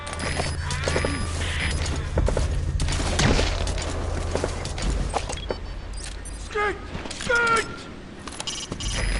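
Gunfire from a firefight in Metal Gear Solid V: The Phantom Pain, bursts of shots and booms over a low rumbling background, with several metallic transient bursts near the end.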